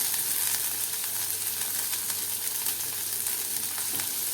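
Cabbage, green chillies and carrots stir-fry over high heat for Gujarati sambharo, producing a loud continuous sizzle with soft scraping and tossing sounds running evenly through, no one talking.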